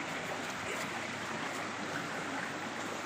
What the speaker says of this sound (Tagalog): Galing sa bukal yung tubig to